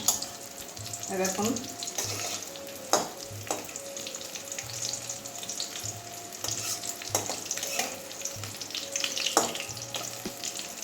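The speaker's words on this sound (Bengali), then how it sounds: "দুদিকেই ভাজা হয়ে গেছে লাল লাল হয়ে গেছে" Egg-coated pointed gourd slices frying in oil in a pan, a steady close sizzle broken by occasional scraping and clinking of a utensil, with no one talking.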